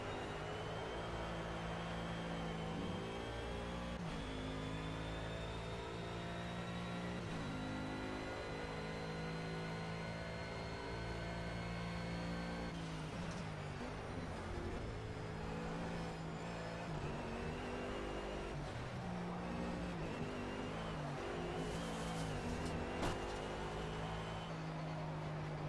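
A race car engine in Project Cars holds a steady, droning tone with layered harmonics, rising and falling as it revs and shifts through gears, loud and continuous with no voices.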